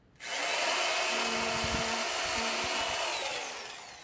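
A power drill bores holes into wood while building a birdhouse, running in one steady continuous whir that is close and fairly loud, with no talking over it.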